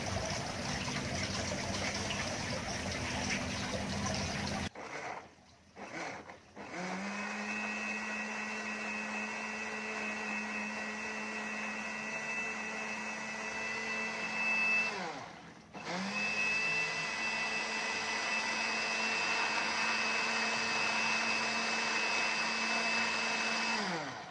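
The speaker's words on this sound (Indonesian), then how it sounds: "Kita akan haluskan dengan blender ini." An electric blender whirs steadily while puréeing a juice drink at a health seminar, a sustained motor drone with a couple of brief stops and restarts, loud and close without any talk.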